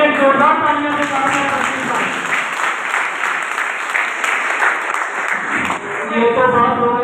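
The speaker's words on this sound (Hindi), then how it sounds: "उनके लिए जोरदार तालियों से" Loud, sustained applause from a crowd honouring guests at a pigeon-flying tournament celebration in Lucknow, continuous dense clapping for the full stretch with a slight swell near the end.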